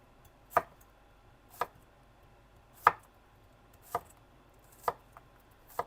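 A knife chops through an onion on a cutting board in six distinct, evenly spaced cuts, each a crisp close knock standing alone in a quiet kitchen.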